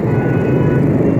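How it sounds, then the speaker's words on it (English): Dense city street traffic in Saigon makes a steady, broad roar of engines close by, sounding alone without any talk over it. "This traffic's going to take off on me here."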